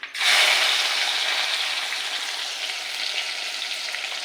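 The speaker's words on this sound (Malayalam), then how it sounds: "ഇനി ആ എണ്ണയിലോട്ട് നമുക്കിതെല്ലാം ഒന്ന് ഇട്ട് കൊടുക്കാം." Small shallots hit hot oil with a sudden loud sizzle that stays close and steady, then gradually softens into a constant crackling fry.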